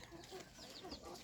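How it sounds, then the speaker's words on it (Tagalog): Chickens and chicks clucking on a farm with a mango tree, soft scattered clucks and peeps repeating through steady outdoor background noise, fairly faint and a little distant. "Daming manok dito."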